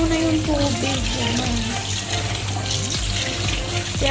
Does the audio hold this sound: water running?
yes